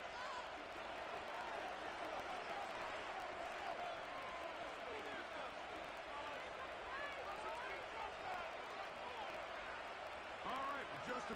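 A large stadium crowd roars in a dense, continuous wash of noise at Highmark Stadium in Orchard Park in a Madden NFL game, holding steady throughout without letting up.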